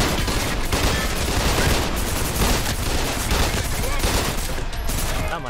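Sustained automatic assault rifle fire from the video game Trepang2, a dense, continuous loud clatter of shots and impacts running throughout with game effects layered in.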